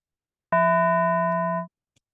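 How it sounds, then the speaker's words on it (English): A bell-like tone from a web FM synthesizer strikes suddenly and sustains at a steady level for about a second without the usual bell decay, then cuts off cleanly, heard alone. "That kind of sounds like a bell,"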